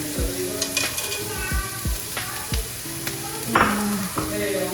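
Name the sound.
carrots added to a sizzling pan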